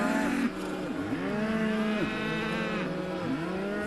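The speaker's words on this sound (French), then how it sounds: "Il est tombé nez à nez avec une vache très perturbée." A distressed cow on a ranch moos repeatedly, giving about four drawn-out, bending calls one after another, close and fairly loud.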